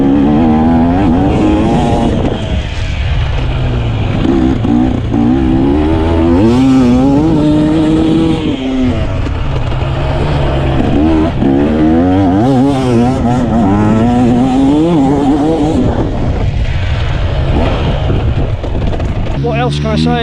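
A 2024 GasGas enduro motorcycle is ridden, its engine loud and close, rising and falling in pitch as the rider accelerates and shifts, with someone talking over the engine noise throughout.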